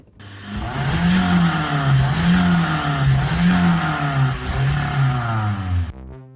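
A Toyota Corolla engine, freshly rebuilt after sitting with internal sludge, catches and runs with new coils and plugs: a loud, close engine note that rises and dips in a repeated revving pattern, then cuts off abruptly.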